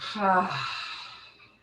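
A long audible exhale during a seated chair exercise class, a voiced breath trailing off into a soft airy whoosh that fades out, close to the microphone.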